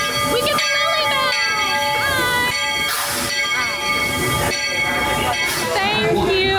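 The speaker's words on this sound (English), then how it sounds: "The train will stop at the station and have the train." A Magic Kingdom railroad train ride, with tonal whistle-like calls and steady rumbling ride noise throughout, busy crowd voices mixed in and loud from start to finish.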